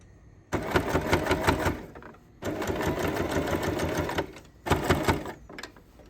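A sewing machine stitches a pocket onto a wallet's main panel in three separate runs of rapid, even mechanical clatter, each broken by short pauses, close and loud with no talking.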